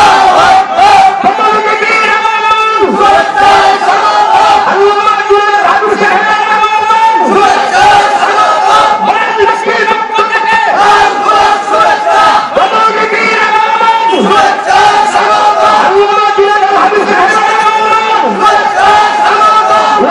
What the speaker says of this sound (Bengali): জোনায়েদ আল হাবিব সাহেব দেন, স্লোগান দেন।